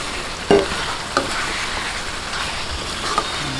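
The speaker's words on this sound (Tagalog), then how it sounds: "Okay, lagay po natin itong ating pinirito." Fried pork goes back into a pan for Filipino binagoongan, with a couple of sharp clinks or drops over a steady close sizzle and light stirring, no voices.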